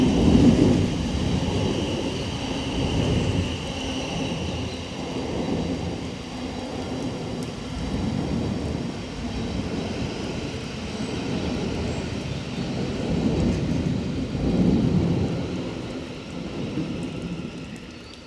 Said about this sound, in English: the train is approaching